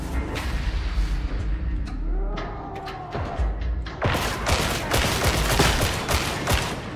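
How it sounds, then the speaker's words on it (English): Rapid gunfire from weapons in the video game Darktide, with scattered heavy shots at first and then dense bursts of sharp, loud cracks and thumps. "the guns feel so fucking nice in this game"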